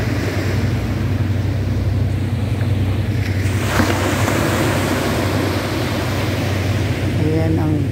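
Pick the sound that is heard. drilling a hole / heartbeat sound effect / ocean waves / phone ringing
ocean waves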